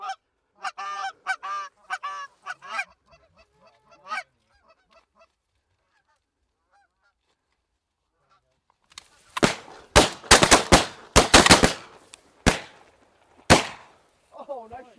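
During an early-season goose hunt, geese honk nearby, then after a pause a rapid volley of loud shotgun blasts rings out, followed by a few more scattered shots.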